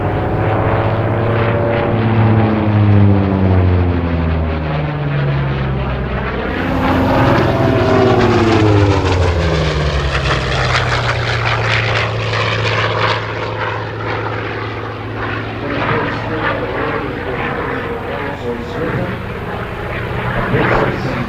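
A Hawker Sea Fury's 3050-horsepower Bristol Centaurus piston engine runs loud and close, a deep roaring drone with sweeping pitch changes as the revs rise and settle, with no speech over it.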